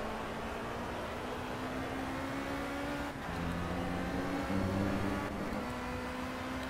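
Race car engine in Project CARS on the Dubai track, driven gently to warm the tyres: a steady, even drone with a constant tonal hum that shifts pitch slightly midway, moderately loud with no talk.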